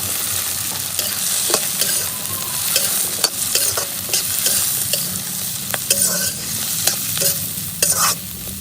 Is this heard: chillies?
yes